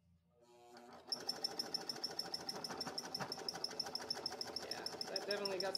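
A sewing machine stitches neon ripstop nylon for motorcycle saddlebags, starting after a brief lead-in and then running steadily with a rapid, even needle rhythm, close and loud, over a background hum.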